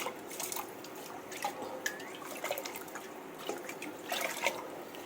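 Pumpkin and potato are rinsed in water, giving gentle splashes, drips and small trickles that come in soft irregular bursts at close range, with no talking.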